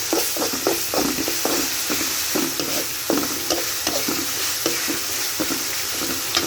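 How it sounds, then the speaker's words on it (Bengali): Ginger and garlic frying in a pan for a village-style desi chicken curry, a steady sizzle with irregular scraping stirs close by, continuous and fairly loud with no voices. "এখন আমি আদা রসুনগুলো ভালো করে এক মিনিট ধরে ভালো করে কষিয়ে নিই"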